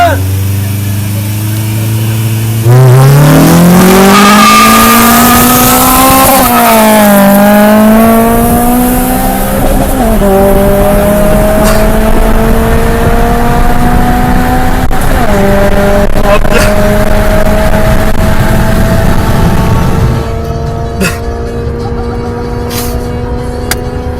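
Honda 1.6 VTi and Audi 3.0 TDI Quattro in a drag race, a loud engine rising steadily in pitch through repeated gear shifts as the cars pull away, then fading into wind and clicks near the end.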